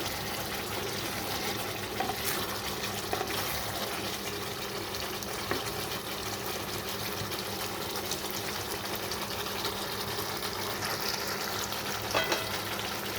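Potatoes and chital fish curry sautéing in hot oil in a pan, a steady close sizzle and frying crackle with faint stirring scrapes, continuous with no talking.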